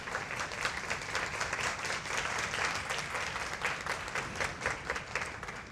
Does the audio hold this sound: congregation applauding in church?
yes